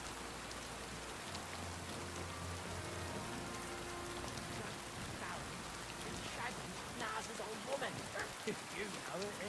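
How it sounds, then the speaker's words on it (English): Rain falls steadily in the medieval world of Kingdom Come Deliverance 2, a soft even hiss with heavier spattering drops toward the end, under a faint voice. "Out here walking in the rain looking."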